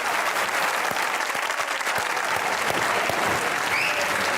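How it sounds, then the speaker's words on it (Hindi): Studio audience applause at a Pakistani TV comedy talk show, a dense, steady burst of many hands clapping at close range that fills the whole moment without a pause. "आपकी भरपूर तालियों में"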